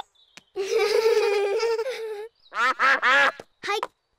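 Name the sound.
ducks quacking in a cartoon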